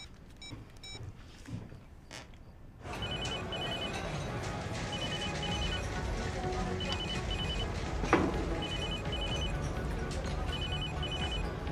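A phone call rings out as a ringback tone, repeating in short paired pulses at a steady rhythm, heard over the low hum of a car interior after a brief quiet moment with a few clicks.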